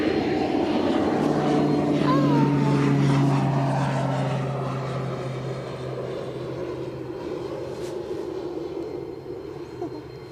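A small propeller aircraft takes off at Edinburgh Airport, its engine droning loudly at first, then fading steadily as it climbs away into the distance, with faint voices heard over it.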